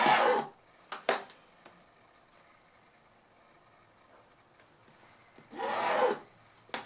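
Marker or chalk being drawn in quilting lines across fabric, short scratchy rubbing strokes at the start and near the end with light taps between, close and quiet, no talking.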